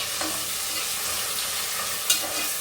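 Carrot and capsicum frying in a pan for millet khichdi, a steady broad sizzle throughout, with one brief sharp clink of a utensil near the end.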